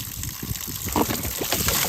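Water runs steadily into an Airstream travel trailer's fresh water tank, a continuous close trickling and gushing sound with no talk over it.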